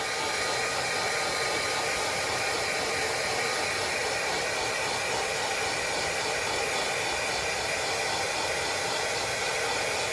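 A heat gun roars continuously and loudly up close, warming a badge on the body of a 2008 Vauxhall Astra H MK5 to loosen it for removal, a steady unbroken hiss with no talking.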